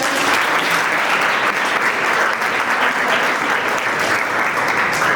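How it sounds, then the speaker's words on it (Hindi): Audience at a college lecture on the Ramayana and Indian knowledge traditions applauds loudly and steadily, a dense wash of many hands clapping throughout with no break. "इसके लिए मैं चाहती हूँ पुनः आप सभी तालियों से सर"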